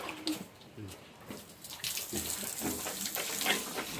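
Water pours and splashes steadily into a pigs' drinking trough, growing louder and fuller after a quiet start, with a few soft knocks early on.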